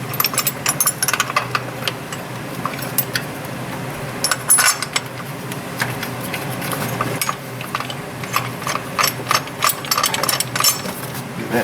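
A hand ratchet tightens bolts on a small metal bracket on a Honda J35 3.5 V6 engine during timing belt work, giving repeated bursts of crisp clicking with short pauses and light metallic clinks nearby.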